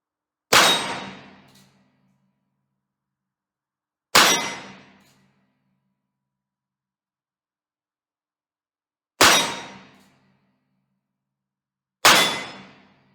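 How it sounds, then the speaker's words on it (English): Four separate ringing clangs from .22 rounds fired by a Ruger Super Single Six 3-screw old model revolver striking a steel target, each sharp hit decaying briefly, spaced irregularly with silence between. "let's see where this thing shoots. Shooting that top round circle."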